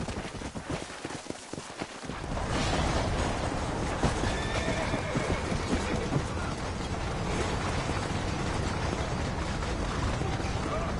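A horse ridden in the video game Red Dead Redemption: after a quiet start, steady clip-clop hoofbeats come in with an occasional whinny under continuous noise of the ride, and no one speaks.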